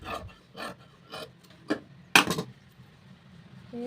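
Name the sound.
cutting blouse fabric with scissors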